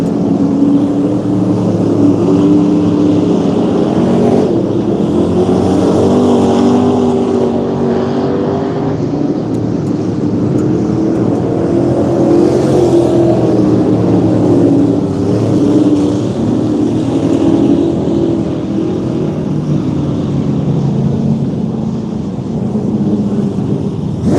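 Super Trucks racing at Vado Speedway, a dense, loud wall of roaring engines that swells and fades continuously as trucks circle the dirt track.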